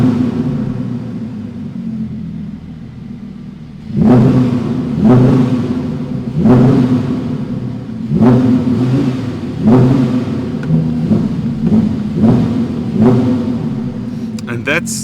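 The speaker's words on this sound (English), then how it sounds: "Set onto sport, revving the R8, rear wheel drive V10" A 2023 Audi R8 V10 Exclusive Edition, rear-wheel drive, in sport mode with the sport exhaust open, idling with a deep rumble and then blipped through about seven sharp, loud revs at a steady rhythm, each rising and quickly falling back.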